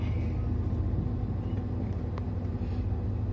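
Flood-damaged Toyota Yaris driving after being shifted into D, a steady low engine and road rumble inside the cabin, continuous and fairly loud with no talk.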